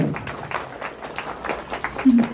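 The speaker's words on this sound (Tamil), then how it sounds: "ஒரு நல்ல கைத்தட்டல் கொடுக்கலாமா இதுக்கு" An audience at a Tamil devotional talk on temple consecration claps in a short burst of applause, fairly close and lively, fading slightly before a brief swell at the end.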